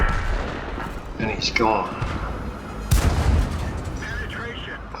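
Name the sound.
tank cannon fire in a video game (World of Tanks)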